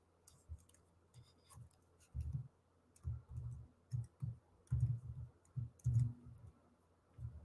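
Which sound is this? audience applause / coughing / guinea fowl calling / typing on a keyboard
typing on a keyboard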